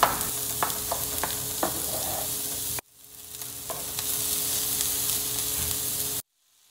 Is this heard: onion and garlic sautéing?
yes